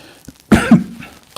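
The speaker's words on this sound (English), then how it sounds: "I've still got this cough" A single harsh cough bursts out close and loud, followed by a brief rough throat-clearing rasp, with quiet background otherwise.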